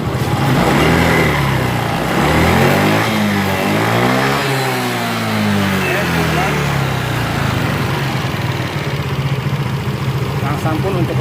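A Yamaha Xeon scooter engine idles steadily and is revved up and down by its throttle, a close, continuous mechanical drone that rises in pitch around the middle before settling back to a stable idle.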